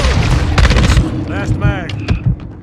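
Rapid gunfire bursts and booming shots in a Call of Duty Modern Warfare 2 (2022) team deathmatch multiplayer match, loud and dense over a rumbling battlefield, with radio-style voices calling out under the shooting.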